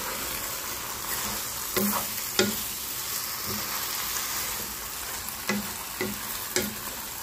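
Sponge gourd, ground meat and noodles sauté in a pan under a steady sizzle, punctuated by several sharp clanks of a spatula stirring.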